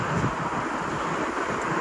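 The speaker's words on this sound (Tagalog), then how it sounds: "Mahangin." Steady coastal wind by a lighthouse in Taiwan roars and buffets the microphone in a continuous broadband rush, loud and unbroken with no talking.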